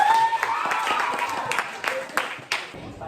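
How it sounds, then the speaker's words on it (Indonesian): A classroom of students claps hands in scattered, uneven bursts close by, fading out near the end, with children's voices mixed in. "Iya, tepuk tangan dulu"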